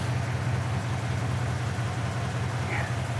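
A restored 1957 Chevrolet Bel Air engine idles smoothly, a low, even steady hum with no variation, heard fairly close and alone without talk.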